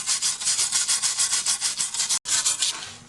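Circular saw blades are scrubbed clean with WD-40 in fast, rhythmic back-and-forth strokes, a harsh bristly rasp repeating about five times a second. The scrubbing stops for a moment and then carries on, close and steady.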